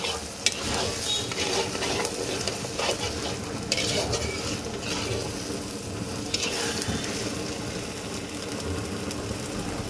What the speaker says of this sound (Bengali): মশলাটাও দেখো খুব সুন্দর মতন কষানো হচ্ছে।